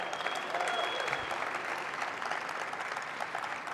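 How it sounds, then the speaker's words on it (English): Audience applause at the RAMMYS 2022 awards event, dense sustained clapping from a large crowd, steady and even throughout, heard from within the room. "So a huge round of applause there."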